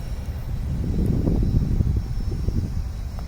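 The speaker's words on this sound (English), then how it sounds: "Guys, there's an Airbus and I think there's a plane coming in." An airliner at Richmond International Airport in Virginia gives a steady, fairly loud engine rumble that swells slightly midway, with no talk over it.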